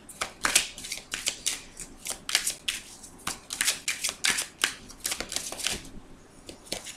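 Tarot cards being shuffled for an extra draw, a steady run of crisp riffling bursts and flicks repeating close up for several seconds with no talk.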